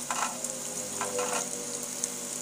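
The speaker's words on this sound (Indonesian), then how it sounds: "Masukkan telur gabusnya satu persatu ke dalam minyak yang sudah panas." Battered snakehead fish roe sizzles steadily in a deep pan of hot oil, a continuous bright crackle with small pops near the start and around the one-second mark, close and alone with no voices.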